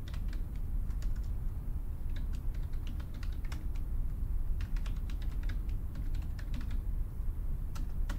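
Someone types on a computer keyboard, a steady run of close, crisp key clicks with irregular rhythm and brief pauses, heard alone without talk.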